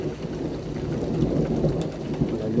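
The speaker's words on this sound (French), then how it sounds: "Voilà, l'orage, il y avait juste derrière les sapins" A thunderstorm with rain and hail rolls in just behind a stand of fir trees: steady heavy rainfall patters close by while deep thunder rumbles underneath throughout, with no talking.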